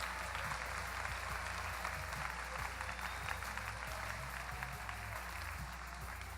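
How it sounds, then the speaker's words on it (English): Audience at an Illinois state tournament applauding the judges and referees, a steady sustained roar of clapping hands from a sizeable crowd, even and unbroken throughout. "how about a round of applause for the judges, the referees"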